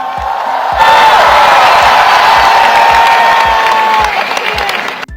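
A large crowd applauds and cheers loudly, steady dense clapping mixed with whoops and shouts that hold at full volume for several seconds, then cut off abruptly.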